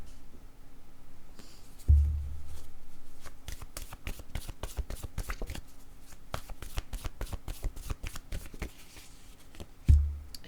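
A deck of word cards is shuffled up close in a long run of rapid, crisp riffling clicks, with a soft thump at the start and another near the end.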